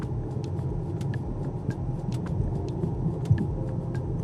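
Turbocharged 2017 Volkswagen Passat GLI with a DQ250 DSG gearbox driving in sport mode, a steady engine and road rumble held at higher revs from inside the car, with faint clicks and no talk.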